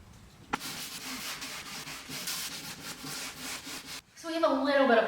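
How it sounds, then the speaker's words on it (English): Sanding block rubbed at a 45-degree angle along the edges of wood veneer on a stripped dresser, a steady close rasping scrape for about three and a half seconds, stopping abruptly before a brighter scraping sound follows. "hit it with a sanding block at like a 45-degree angle to really dull those edges"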